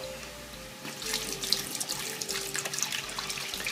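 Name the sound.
pouring broth into a beef stew pot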